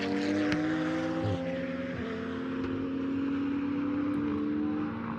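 Fanatec GT2 race cars driving at the Algarve circuit, several loud engines droning together as they climb over a brow and head into turn 15, pitch sliding with gear changes.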